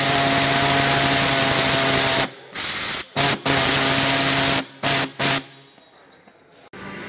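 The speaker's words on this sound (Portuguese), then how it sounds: "Agora vamos com a máquina de cortar." A power cutting tool slices into a plastic car part to fit a fog light kit on a Fiat Uno, a loud steady whine broken by several short pauses before it stops and fades to quiet.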